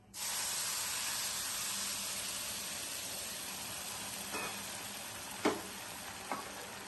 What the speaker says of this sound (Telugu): మరిగి నీళ్లు వేగిన సేమ్యాలో పోసేసుకోవాలి